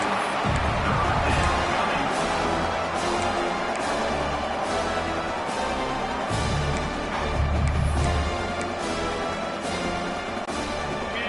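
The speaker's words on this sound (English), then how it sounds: "They are coming after the bringing noise on third down." A stadium crowd roars through a Georgia versus Alabama college football video game on third down. The roar is steady, loud and dense, with no break in the din.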